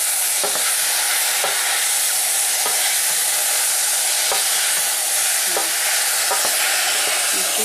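Mushrooms cook in a pan with a little liquid for a light sauce, giving a constant bright sizzle close by, broken by regular scraping knocks of a spoon stirring about once a second.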